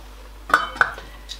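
A lid goes onto a cooking pot of Congolese oxtail stew. Two quick metallic clinks land close together, followed by a faint third tap, all close-up over low background hum.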